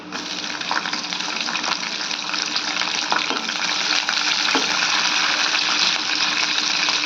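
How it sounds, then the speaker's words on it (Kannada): Green chillies and peanuts frying in oil: a loud, continuous close-up sizzle that builds slightly throughout, with a few faint stirring knocks and no voices. "ಶೇಂಗಾ ಬೀಜ ಸ್ವಲ್ಪ ಎಣ್ಣೆಗೆ ಫ್ರೈ ಆದಮೇಲೆ ಹಸಿಮೆಣ್ಸಿನ್ಗೇನು ಕಟ್ ಮಾಡಿ ಇಟ್ಕೊಂಡಿನಲ್ರಿ ಅವು ಹಾಕೋತೀನಿ"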